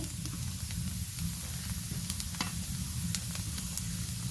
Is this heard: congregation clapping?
no